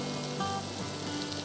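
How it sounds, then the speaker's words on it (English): Onions and chopped smoked kielbasa sautéing in butter in a pan, a steady close hiss and crackle of frying with no pauses and no talk. "I'm going to saute our onions until they're translucent"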